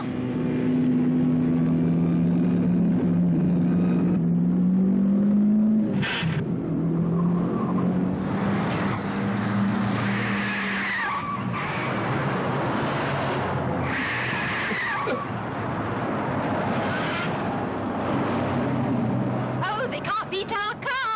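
A car driving along with a steady engine drone that shifts pitch, tires and road noise around it, while people chat and laugh over it throughout.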